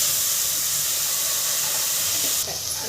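Fenugreek leaves sautéing in a pan for methi dal, giving a steady, close hiss of steam and sizzle that runs unbroken throughout with no talking.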